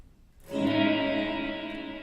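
A single guitar chord rings out through a Strymon blueSky reverb pedal with high damping, blooming after a short pause and then sustaining as a smooth, darkened wash that slowly fades.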